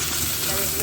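Curry leaves, onion and green chillies fry in a pan, a steady close sizzle and hiss running through the whole brief moment.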